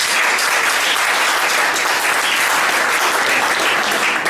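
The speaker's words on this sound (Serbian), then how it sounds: "Samo jedan aplauz za Vaska Gromkova." Loud, dense applause from an audience at an academy talk, steady and continuous throughout with no pauses, close and filling the space.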